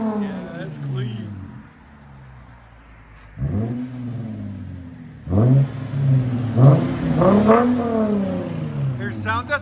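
A Lexus IS 250 with a 2.5L V6 and straight-pipe exhaust revs in a few deep, rising bursts, fairly close, with people talking over and between the revs.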